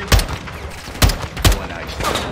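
Gunfire from enemy shooters in a Modern Warfare II story mission, with three or four loud, sharp shots cracking out at uneven intervals over a rumbling battlefield background.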